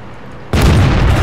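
A tank shell strikes an enemy tank in World of Tanks: after a quiet lull, one sudden loud, close boom erupts and rolls into a dense, sustained rumble.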